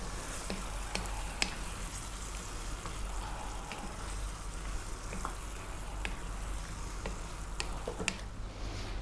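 Chicken stew cooking on lowered heat just above a simmer, giving a steady soft sizzle and bubbling hiss with scattered small pops and ticks, quiet and continuous throughout.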